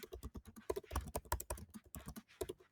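Rapid, uneven clicking of keys on a computer keyboard while typing text, close and fairly crisp, with bursts and short pauses and no talking.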